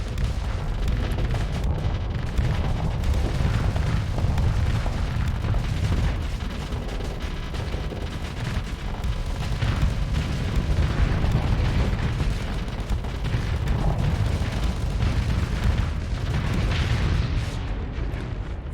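Missile explosions in the space combat game Starsector form a dense, continuous barrage of heavy booms and rumbling blasts that stays loud throughout.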